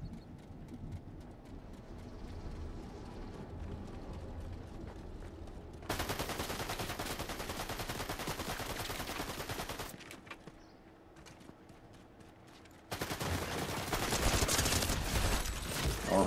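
Rapid SMG gunfire in Fortnite, dense bursts of automatic shots filling long stretches, loud and close, with a brief lull before a final heavy volley.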